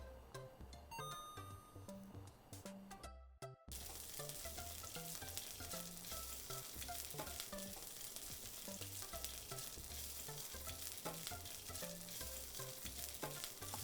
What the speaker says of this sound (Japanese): ベーコンを焼いていきます。